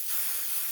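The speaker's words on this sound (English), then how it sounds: "So I'm just going to spray this whole thing" An aerosol can sprays a steady, airy hiss across a handmade Christmas church cutting board, one continuous burst at moderate level with no talk.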